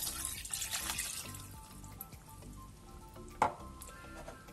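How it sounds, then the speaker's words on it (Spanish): White wine, a glass of about 250 millilitres, hits a hot pan and sizzles loudly for a second, then settles into a softer bubbling simmer with one brief clink of utensil against the pan. "Incorporo un vaso o 250 mililitros de vino blanco."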